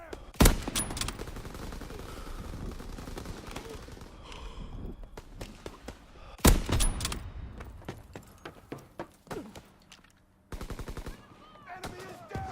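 Video-game gunfire in a sniper shooter: loud sharp shots and bursts of automatic fire, with a heavy blast near the start and another midway, then rapid clustered rounds, alongside occasional breathy vocal sounds.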